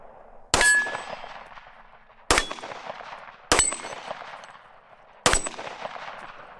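Four pistol shots fired with a red dot sight each ring out on a steel target, a sharp loud crack followed by a bright metallic clang that decays, spaced irregularly about one to two seconds apart with no talking.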